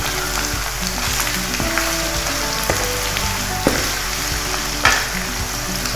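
Tomatoes hit a pot of frying degi aloo gosht, raising a loud, steady sizzle with occasional spoon clinks and stirring scrapes throughout.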